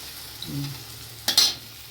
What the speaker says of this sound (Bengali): দিয়ে দেবো একটু জল।